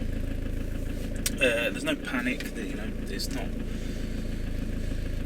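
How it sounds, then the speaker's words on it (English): A van engine idles while warming up with a steady low rumble throughout while someone talks briefly over it. "Get the van warmed up a bit."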